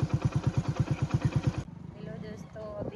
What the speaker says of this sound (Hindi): बाइक लेकर ही जा रहे हैं